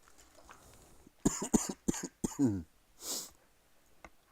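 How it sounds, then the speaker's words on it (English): A series of harsh coughs, about five bursts in quick succession, close and fairly loud, followed by a breathy exhale. "Here's some coughing."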